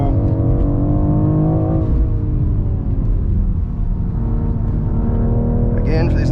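A 2023 BMW X4 M Competition accelerates hard uphill on the Nurburgring, its engine note droning loud and steady from inside the cabin with a rising pitch, while a voice talks over it.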